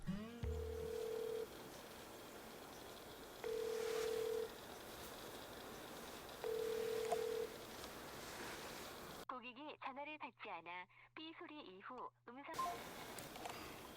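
A telephone ringback tone purrs three times in slow, even bursts over faint background noise, then a recorded voice speaks briefly.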